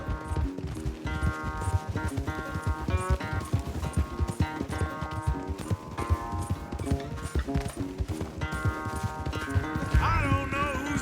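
Several horses gallop hard in a race in Red Dead Redemption 2, a loud, dense drumming of hooves close by, with a rider's voice briefly heard over the pounding.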